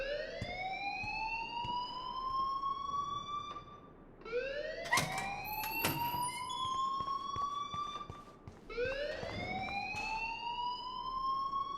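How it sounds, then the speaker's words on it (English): A rising, repeating electronic alarm in the Life Is Strange video game, sweeping upward in three long cycles with sharp electronic tones between them, loud and continuous. "please turn off that alarm since that's your job."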